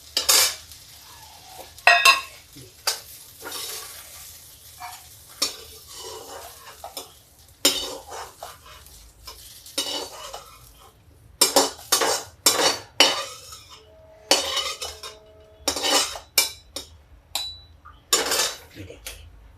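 A metal utensil scrapes and clinks against a pan as fried okra is lifted out, in irregular bursts over a faint background sizzle, with a person speaking in between.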